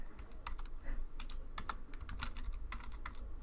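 Rapid keystrokes on a computer keyboard, a steady run of close, crisp clicks with uneven rhythm over a low background hum, with no speech.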